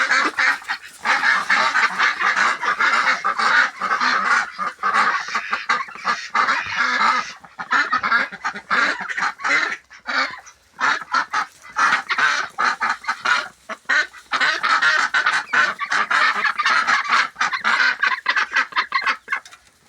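Dense, continuous honking and quacking from a flock of ducks and geese, loud and close, with overlapping calls throughout and brief dips in between.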